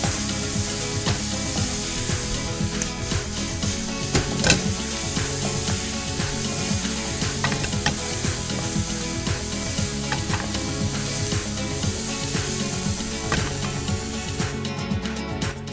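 Onion frying in a pan with salt, a dense steady sizzle close up, broken by frequent scraping and clattering of a spatula stirring against the pan.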